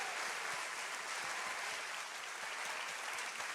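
An audience claps steadily and loudly to welcome a guest, Dr. Andy Yarborough, onto the stage at a relationship round table event, a dense wash of applause with no voices on top.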